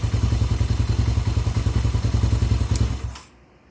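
A Hawk 250 enduro motorcycle engine runs close by with an even, rapid thumping exhaust beat and mechanical clatter, then cuts off abruptly near the end, leaving near silence.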